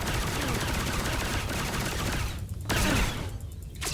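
Rapid video-game gunfire, dense repeated shots filling the whole stretch with a brief lull near the middle, loud and close with no talk over it.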